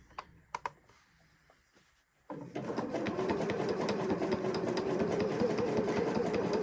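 A sewing machine starts after a few soft clicks and runs steadily, stitching along the edge of an appliquéd shape with a continuous close mechanical whir.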